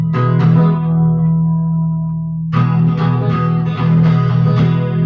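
A Mexican-made Fender Standard Telecaster electric guitar rings through an amplifier with effects: a strummed chord sustains and fades, then a run of picked notes and chords follows, clear and close with a slight echoing shimmer.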